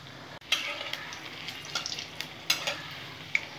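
Food shallow-frying in a pan as it is turned until reddish-brown, with a soft steady sizzle broken by a few light stirring clicks and scrapes of a utensil, fairly quiet and close with no talking.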